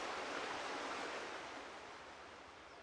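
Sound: waterfall in video game Farming Simulator 17

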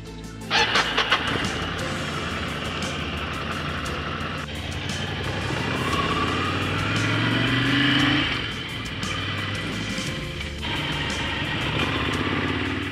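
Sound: motorcycle riding on Alpine road

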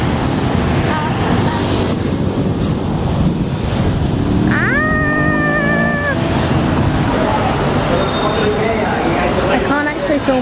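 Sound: train riding on rails

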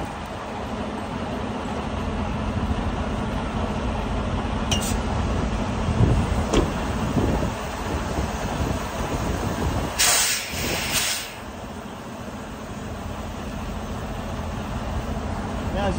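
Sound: truck air suspension airbags inflating, lifting trailer fifth wheel

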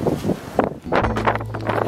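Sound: wind blowing at a coastal lookout

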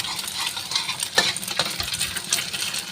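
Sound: stirring prawn mee ingredients in a pan

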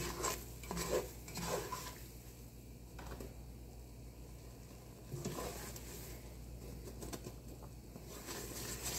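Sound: stirring flour and butter in a pot for potato soup

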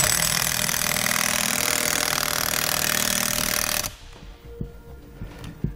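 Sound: tightening nuts with a long extension socket

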